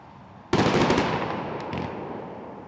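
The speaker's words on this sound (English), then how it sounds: "fireworks were let off to celebrate the lives of Eve, Raphael and Darcy" A sudden loud burst of crackling fireworks at an evening memorial gathering in Cardiff, a rapid volley of sharp bangs that fades into a rumbling, crackling tail with distant pops.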